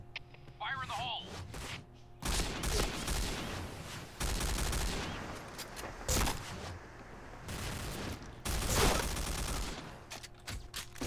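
Bursts of G36C rifle fire ring out in the PointBlank shooter game, several rapid volleys separated by brief pauses, loud and close, with talk between them.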